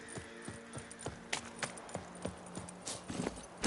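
Horse hooves clip-clop at a steady walking pace in The Witcher 3, a regular series of close, moderately quiet hoofbeats with faint tack jingling and no talk.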